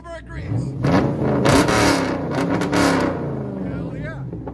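A Chevy Camaro SS with a 6.2L V8 and aftermarket exhaust revs hard from inside the car, the engine surging loudly up and down in several pulls while people speak in between.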